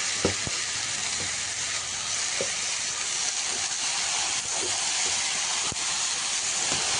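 Ground spices and green chilies fry in oil in a pan, giving a steady hissing sizzle throughout with a few soft clicks and scrapes of stirring; no voices.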